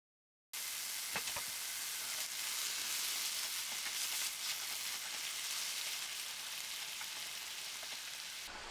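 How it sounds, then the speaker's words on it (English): Bacon and onions fry in a pan on a stove, a soft but steady crackling sizzle heard close up with occasional small pops, continuous and without any talk. "Now let's go to the stove to cook up these bacon and onions."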